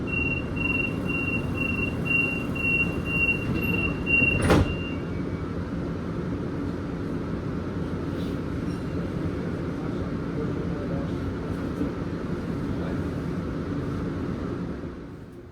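A Sydney train runs between stations on a short ride toward Holsworthy, a steady rumbling roar throughout with a sharp clunk early on, ending in a slight fade.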